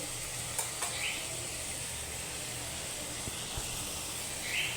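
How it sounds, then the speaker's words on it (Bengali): Potatoes and ridge gourd fry in oil with green chillies, giving a soft continuous sizzle and hiss close by, punctuated by a few brief stirring knocks, with no one speaking. "সবার প্রথমে তেলের মধ্যে আলু আর ঝিঙেটা দিয়ে দিতে হবে"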